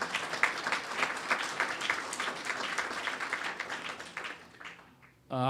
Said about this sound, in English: So that deserves a round of applause as well, in my opinion.